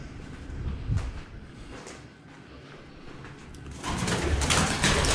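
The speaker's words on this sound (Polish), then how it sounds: "Mnóstwo gołębi." Soft pigeon coos sound close by inside a sea fort, Haile Sand Fort, with low murmuring and shuffling, then a louder rush of noise near the end.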